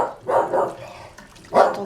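A dog barks indoors in a home kitchen, two loud close barks with a short pause between them, then a third bark after a brief gap, no talk over them.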